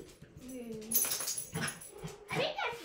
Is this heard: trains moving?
no